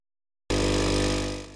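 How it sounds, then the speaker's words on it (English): After a moment of silence, a loud mechanical buzzing hum kicks in abruptly and drones steadily as an espresso machine's pump fills its internal heater with water, then starts to fade. "It's the noise of the pump filling the internal heater with water."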